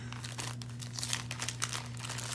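A paper laundry sticker is peeled from a sticker sheet, close up, with a steady crinkling, papery rustle and small crackles across the whole stretch, no talking.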